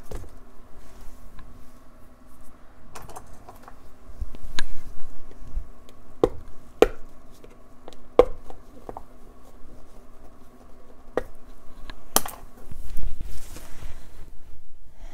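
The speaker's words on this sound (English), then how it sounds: "The noise in the background is my little heater that's sitting right here, so in case you're wondering what's running." A small space heater runs steadily in the background with a faint, even mechanical hum, under scattered taps, clicks and handling noises from nearby work with acrylic paint cups.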